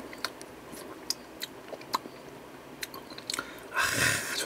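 Close, wet chewing and crunchy bites on soy-marinated Yellow Sea blue crab (ganjang gejang), scattered sharp cracks and squishes over quiet, ending in a louder rustling burst, no speech.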